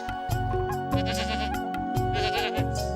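Goats bleat in wavering, nasal cries over a dense, steady backdrop of sustained tones, loud and continuous with no talking.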